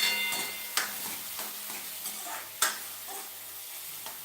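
A spoon stirs green chilies into a sizzling Punjabi-style dal tadka in a pot, with a steady frying hiss broken by a few sharp clinks of utensil against the vessel.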